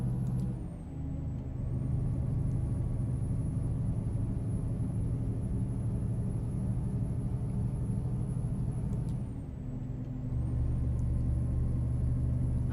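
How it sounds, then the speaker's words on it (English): A truck's engine drones steadily at cruising speed on Highway 20, a loud, continuous low rumble with road noise and a high whine, dipping briefly before building again. "I like the sound on this truck."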